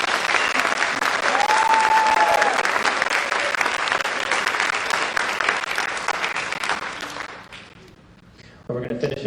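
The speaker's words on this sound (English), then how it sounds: "So give a round of applause for the students." Audience applause for orchestra students at a school strings Christmas concert, a sustained dense clapping from a large crowd that tapers off near the end, with a voice briefly heard.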